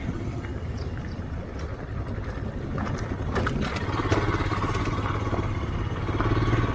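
A motorcycle engine drones steadily with loose parts rattling and clattering as it rides off-road over rough ground near Yusmarg, fairly loud and close, with no voices.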